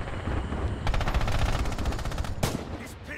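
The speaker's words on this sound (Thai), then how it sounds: "เฮ้ยดาวเพื่อนยิงได้สวย" Rapid machine-gun fire rattles in the Red Orchestra 2 battlefield game, with a dense burst of automatic shots and a sharp single crack near the end. It is loud and close and plays without speech.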